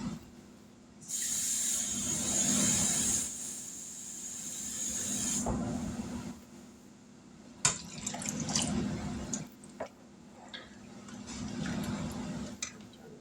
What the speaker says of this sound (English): Add a little bit more water to it.